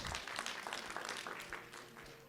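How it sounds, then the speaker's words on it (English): A modest round of applause from a conference session audience for a presenter, moderately faint patter of hand claps lasting a couple of seconds. "Give Hunter a round of applause"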